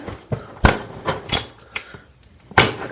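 A sealed cardboard box being sliced open with a leather package opener, producing several sharp scraping and tearing bursts at uneven intervals, close and fairly loud, with no voices.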